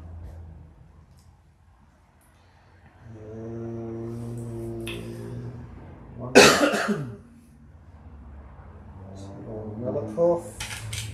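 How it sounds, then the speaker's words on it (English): A single sharp cough bursts out during a tabletop miniatures battle game, preceded by a sustained humming voice and followed by faint murmuring and small rustles. "Another cough."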